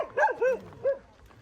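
Close dogs outside a house near Kainchi Dham in India let out a quick run of three yappy barks, the last one set slightly apart, and then the sound trails off into quiet.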